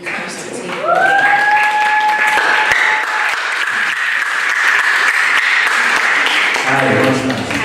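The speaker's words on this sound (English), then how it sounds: "with a round of applause, help me welcome Nathan as he comes to take over" An audience at a corporate evening session applauds steadily to welcome a moderator, with a sustained high tone ringing over the clapping, and a voice starts talking near the end.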